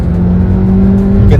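A Skoda Kushaq with the 1.5 TSI petrol engine and 7-speed DSG automatic revs hard under throttle while accelerating, a loud, close, steady engine drone with a rising pitch at the end.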